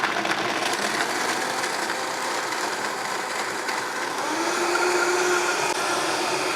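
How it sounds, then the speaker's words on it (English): A loud, steady motorized whir of a blender blending vegan cheese sauce runs throughout at high speed, with a slight rise in pitch near the end. "we're gonna blend the cheese sauce"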